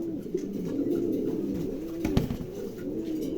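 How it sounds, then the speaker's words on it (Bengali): Several pigeons coo in low, throaty, overlapping calls close by, a continuous soft burbling with a brief thump partway through. "তিন জোড়া কবুতর কোনো ভাই যদি একসঙ্গে নেন"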